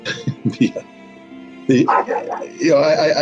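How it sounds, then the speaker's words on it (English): A dog named Maverick lets out several sharp barks in quick succession, fairly close and loud, then pauses before more yips and barks follow, with a voice speaking between and around them. "Maverick is seeing shadows and barking."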